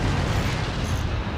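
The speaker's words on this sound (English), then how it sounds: "A cannon shot, taking out one of the cores of EtaN." A cannon shot destroys a core in the video game Crucible, a dense, roaring explosive boom that fills the whole moment at full loudness with no talk over it.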